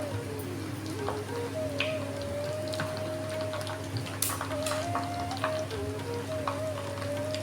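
Dried fish and stone flower frying in oil in a pan for catfish curry, a continuous close crackling sizzle with scattered pops, alone without speech, over a low steady hum.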